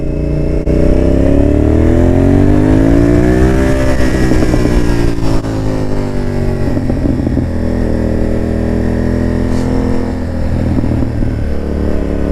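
A motorcycle engine idles close by, then revs up with rising pitch and settles back into a rough, loud rumble, with a few more throttle blips.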